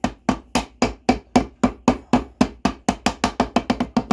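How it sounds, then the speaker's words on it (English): Hammer tapping a part flat during assembly of a 224cc engine, about eighteen sharp close metallic knocks in a steady rhythm that speeds up toward the end, loud and alone. "Now, take this hammer, and we're going to make sure this is all down."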